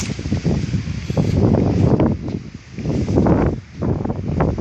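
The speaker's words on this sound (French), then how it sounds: "Ah, il y a du vent." Gusty wind buffets the microphone in loud, uneven rumbling waves that rise and ease repeatedly.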